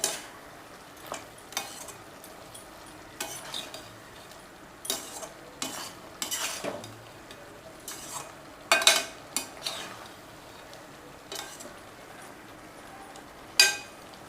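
Prawn and ridge gourd gravy is stirred in a pan, with scattered scrapes and light clinks of a spoon against the metal over a faint, low simmer. The stirring comes in irregular bursts with quiet gaps between them.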